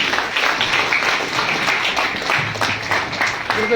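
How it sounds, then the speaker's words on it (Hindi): An audience at a spoken address claps steadily and loudly for several seconds, a dense and continuous wash of applause with no break and no talking. "इतनी जोरदार तालियां बस।"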